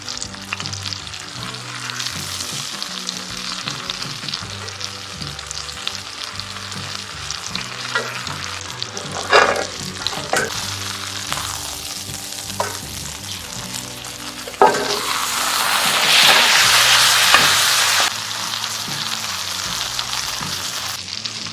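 A 30-day aged tomahawk steak sizzles in butter and rosemary as the fat renders, a steady close crackle with occasional spatters and a louder burst of hissing partway through.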